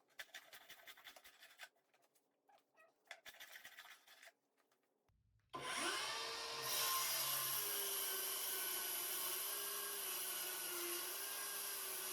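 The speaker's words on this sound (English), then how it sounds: "we decided to actually hand plane the high spots and the glue areas." A hand plane shaving the glued-up red oak table top, first in short broken scraping strokes with gaps, then giving way to a long continuous rough scraping noise, close and fairly loud.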